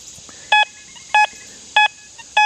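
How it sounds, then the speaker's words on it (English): An XP Deus 2 metal detector gives four short, evenly spaced bright electronic beeps over a zinc target, with a faint steady hiss between them and no talk. "If you don't hear any iron tone, just like this zinc in here"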